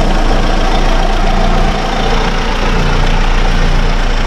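A Volkswagen Golf 2 with a VR6 24V engine runs at idle, a dense steady mechanical drone with a low rumble that stays loud and constant throughout, heard up close with no voices.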